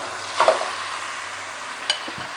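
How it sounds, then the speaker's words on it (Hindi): Onion, garlic, ginger and minced meat fry in oil for biryani, a quiet steady sizzle with a couple of brief scraping stirs and a soft low hum beneath. "इसी में हमने ये प्याज लहसुन अदरक शामिल करना है, और इसको थोड़ा सा कीमा शामिल करके हमने भूनना है।"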